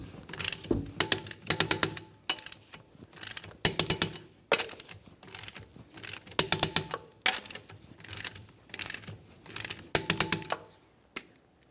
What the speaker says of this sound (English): we'll torque these to 80 foot-pounds in a crisscross manner